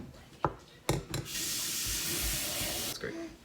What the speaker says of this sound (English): we're gonna put water in here